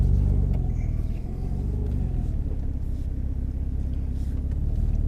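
A Renault Clio V6 Sport Phase 2 turning around, its engine a steady low rumble close by with no talking.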